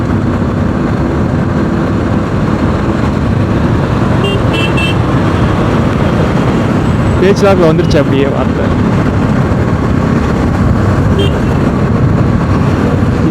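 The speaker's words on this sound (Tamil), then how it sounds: "இதுதான் சென்னை டிராஃபிக்" Dense Chennai city road traffic streams past, with engines droning continuously and a short burst of horns in the middle, while someone talks over the steady roar.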